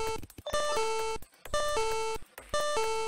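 A Tamagotchi in a video game emits bright electronic beeping melodies in three repeated bursts separated by short pauses, loud and alone.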